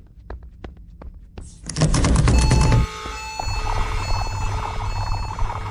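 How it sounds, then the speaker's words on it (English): A few sharp clicks, then a loud burst of noise gives way to a steady electronic alarm tone blaring continuously, close and insistent. "bypass the alarm system"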